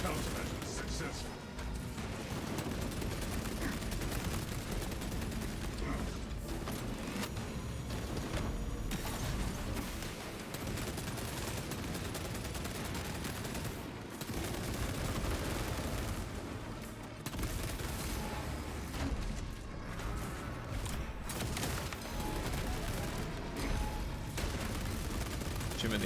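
Heavy bolter gunfire in a Warhammer 40K-style shooter battle against xenos: sustained, dense automatic fire with explosions and impacts, loud and continuous throughout, with voices talking over the combat.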